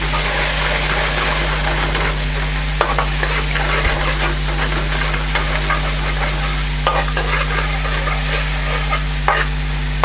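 Tomato paste sizzles and fries in a hot pan for a Balti dish, with a spoon stirring and scraping steadily throughout, close and fairly loud over a constant low hum.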